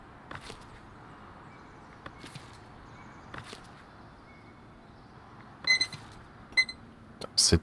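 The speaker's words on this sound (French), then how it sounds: "Cette alarme qui me fait sursauter à chaque fois." A sharp electronic alarm rings out in the medieval city-building game Foundation, several short bright bursts near the end after faint clopping and quiet ambience.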